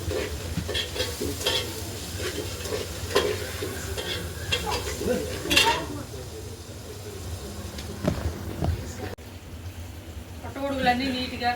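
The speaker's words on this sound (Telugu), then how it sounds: "ఇప్పుడు ఈ టమాటాలు ఉల్లిపాయలు అన్నీ వేగాయి." Chopped tomatoes and onions fry in a pan in a home kitchen, making a continuous close sizzle broken by repeated stirring scrapes and clinks, with a brief faint rattle of running water near the end.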